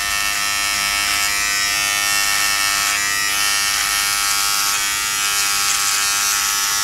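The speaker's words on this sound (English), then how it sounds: "It's just doing a little bit of a trimming job on my goatee, as you can probably hear there" An Alfawise RHC5000 electric beard trimmer with a 3mm guard buzzes steadily at close range trimming a goatee, a high whirring hum with slight changes as it cuts hair, no talking.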